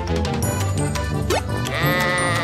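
Sheep bleating in a children's cartoon, several wavering bleats close together over a soft musical backing, loud and near with no voices.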